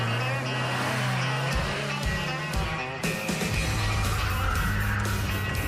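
Cars launching at the start of a race on an old runway, engines revving hard with a loud, dense roar that jumps sharply about halfway through and stays steady and close.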